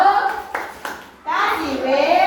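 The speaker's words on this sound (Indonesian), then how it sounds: "Tepuk tangan dulu dong" Children in a classroom clap their hands in short bursts, with a pause in the middle, while kids' voices chatter over the claps.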